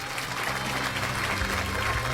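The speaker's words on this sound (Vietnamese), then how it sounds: "Mọi người vỗ tay nha." Audience clapping on a Vietnamese television show studio set, a continuous brisk round of applause filling the whole moment, with a faint low murmur beneath it.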